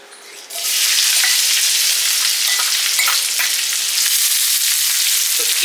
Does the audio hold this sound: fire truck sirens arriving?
no